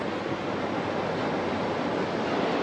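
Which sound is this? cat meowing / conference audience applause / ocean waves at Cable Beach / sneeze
ocean waves at Cable Beach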